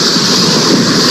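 Strong wind and sea waves at the shore, a loud, steady roar of gusting wind over surf, continuous and close with no pause.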